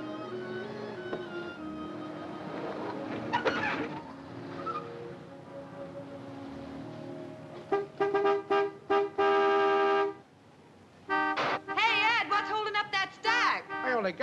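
A car horn honks as a vehicle pulls in, several short loud blasts followed by one long sustained blare, close by, amid background bustle and a few voices, then lighter chatter and clatter once the horn stops.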